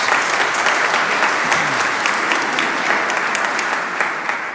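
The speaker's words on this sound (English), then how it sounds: "you got to clap" A crowd applauds steadily for several seconds, dense clapping that holds loud throughout and tapers slightly at the end.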